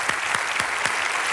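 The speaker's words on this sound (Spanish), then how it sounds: "Le damos un gran aplauso a Ángela." Studio audience applause on a Spanish-language TV variety show, a dense steady wash of clapping with a few sharper claps standing out, fairly loud and close, with no talk over it.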